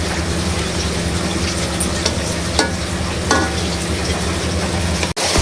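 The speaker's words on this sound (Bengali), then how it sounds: "আলুগুলো কষিয়ে নিচ্ছি।" Potatoes sautéed in spice masala in a pan for a rui fish curry give off a steady, close sizzle with stirring scrapes and a few brief clinks, and a sharp knock near the end.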